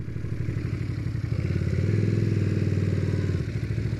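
A 2015 Aprilia Caponord touring motorcycle under way, its engine droning steadily and close, with pitch changes as the rider shifts smoothly through gears over about four seconds.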